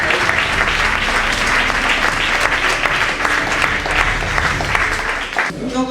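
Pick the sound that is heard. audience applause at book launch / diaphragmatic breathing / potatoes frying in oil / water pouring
audience applause at book launch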